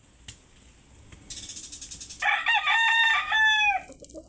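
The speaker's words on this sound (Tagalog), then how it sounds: "Ang daming manok dito, oh." A rooster crows once, close and loud, just after a short rattling buzz against a quiet background.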